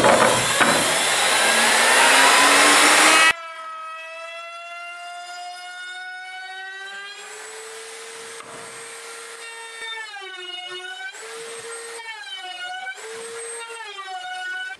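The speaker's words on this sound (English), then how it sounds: "So now we'll router the edges of that." A handheld router fitted with a roundover bit cuts along the edges of a part being prepared for fiberglass laminating. It opens with a loud broadband burst of cutting, then drops to a steady, sustained motor whine that rises and falls in pitch as the load changes.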